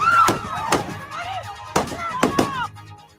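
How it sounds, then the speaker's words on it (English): Sharp, loud cracks from gunfire at a protest clash with federal agents, several reports in irregular bursts, two close together near the end, over crowd noise and a siren-like wail. "there is gunshots at the beginning of this clip"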